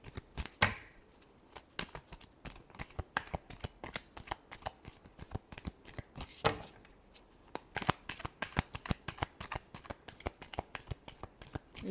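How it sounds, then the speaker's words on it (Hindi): Close-up shuffling of a deck of cards, with rapid crisp riffles and slaps in quick uneven bursts, repeated throughout. "Last shuffle."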